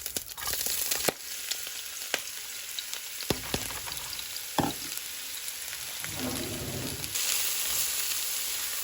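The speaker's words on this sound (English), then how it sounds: "Now we'll start cooking our onions. I'm adding in some olive oil." Onions frying in olive oil over medium heat for chicken tinga, a steady close sizzle with scattered pops and crackles and a brief stirring scrape near the end, no talking.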